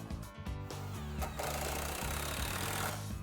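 A power drill drives wood screws into clamped wood pieces while a seesaw is built. Its motor whirs steadily and close, with a grinding, knocking texture as the screws bite, and no one speaks.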